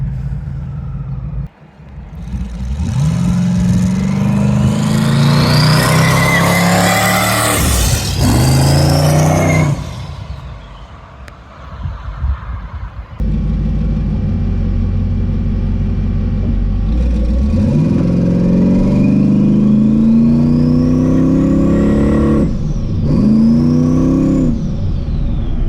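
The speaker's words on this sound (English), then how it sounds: "Nice burnout." A twin-turbo Camaro doing a burnout at a drag strip, its loud engine revving up in rising sweeps, dropping briefly, then roaring and climbing again at close range.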